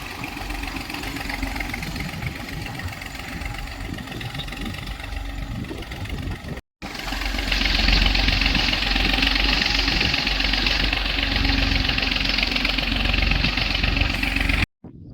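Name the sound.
tractor engine running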